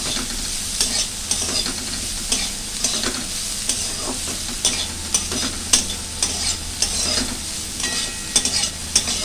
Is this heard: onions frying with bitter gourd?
yes